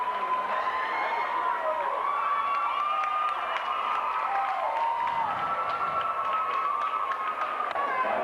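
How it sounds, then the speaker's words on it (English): A crowd at a 1991 city conference swim meet finals cheers and shouts continuously at the finish, a steady roar of distant voices filling the whole stretch. "You hear the crowd here carry on for first"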